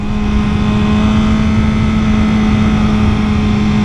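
A 2023 BMW M 1000 RR motorcycle engine drones loud and close at a steady high pitch while riding, a continuous buzzing roar with no voices.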